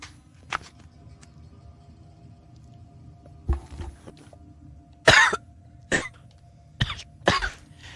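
Several short coughing bursts from a player who choked on water, clustered toward the end, sharp and fairly close over a low background hum, with one earlier isolated cough.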